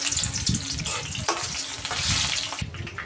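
Onions hit hot oil already spiced with cardamom, cinnamon and whole cumin, giving a loud, close, steady sizzle with a few sharper crackles and bursts through the short stretch.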